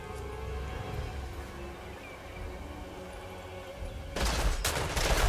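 A gunfire volley in Total War Warhammer, during an Araby campaign in Immortal Empires, crackles as a dense burst of many shots over a steady battle din, with a louder flurry near the end.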